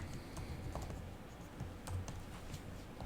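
Typing on a computer keyboard during Python coding, with steady soft key clicks close by, quiet and continuous, with no talking.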